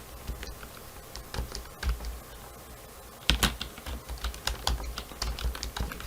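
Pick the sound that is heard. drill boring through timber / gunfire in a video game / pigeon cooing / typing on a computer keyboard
typing on a computer keyboard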